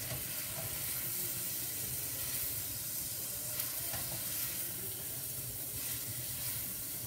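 Shrimp frying in a pan for spaghetti shrimp scampi, giving off a steady, even sizzle with a soft bubbling hiss that continues uninterrupted, no one speaking.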